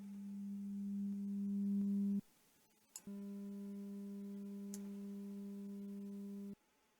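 A steady pure sine test tone from a tone generator, loud and unbroken for about two seconds, then a short gap before it resumes and holds until it cuts off abruptly.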